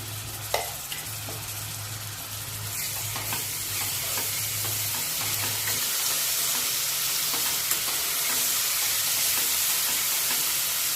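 Ginger garlic paste sizzles and fries in a pan in a pressure cooker, a steady bright hiss with scraping stirring strokes and a low hum fading after the first few seconds.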